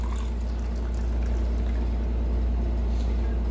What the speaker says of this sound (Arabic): وهننزل بكوب مية دافية